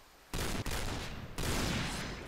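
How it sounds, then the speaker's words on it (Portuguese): Gunfire in the Point Blank video game, loud sustained bursts of shots in two stretches with a brief gap, dense and close, no talk over it. "Porque se tô atirando no cara o tiro não pega"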